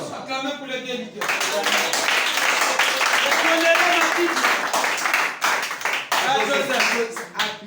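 Crowd applause for the healers: sustained, dense clapping over several seconds at close range, mixed with voices and tonal vocal sounds beneath.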